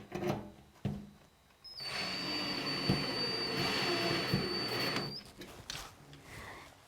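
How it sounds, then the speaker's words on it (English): A power driver sends sheet metal screws through an exhaust fan box into 2x4 backing, a steady high-pitched whine with grinding running about three and a half seconds, framed by a few sharp knocks before and after. "I'm going to use sheet metal screws to go through the box into the 2x4 backing"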